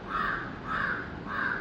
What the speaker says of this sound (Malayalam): അത് കാക്കയാണേ